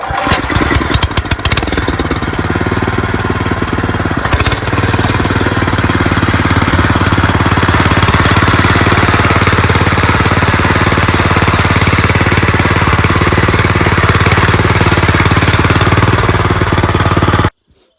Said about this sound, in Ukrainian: Зараз я завожу і пробуємо загортати картоплю.